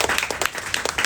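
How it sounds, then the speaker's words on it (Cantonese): A small group claps for a coach, brief irregular hand claps close by, loud and uneven, lasting about a second. "俾掌聲教練。"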